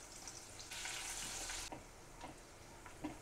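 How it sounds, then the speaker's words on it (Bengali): Onion, garlic and two dry red chilies fry in hot oil with cumin for a tempering; a loud burst of sizzling flares then drops back to a quieter crackle with a few soft clinks. "এই যে বাগারের পেঁয়াজ রসুন সুন্দর মতো একটা লাল রং ভাজা হয়ে গেছে"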